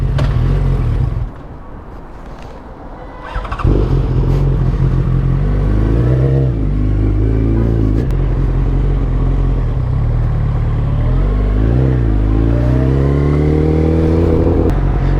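Motorcycle ridden up close, the engine dropping to a low idle then roaring back and rising and falling in pitch through repeated revs and gear changes, loud and continuous with wind noise.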